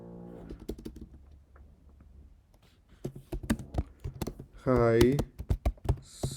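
Quick, light clicking of a computer keyboard while filling in a scholarship application form, bursts of taps under and between a voice explaining the entries.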